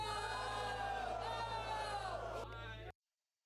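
A crowd at a contentious town hall shouts and yells together in a loud, dense, continuous roar that cuts off abruptly near the end.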